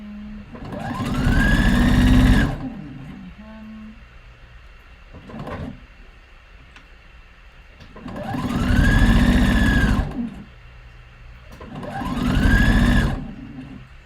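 Three separate bursts of a sewing machine stitching a top, each a loud, close whir that ramps up in speed and then stops, with quieter gaps and a small click in between.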